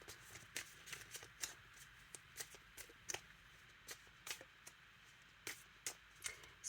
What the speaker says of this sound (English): I'll shuffle another deck for you now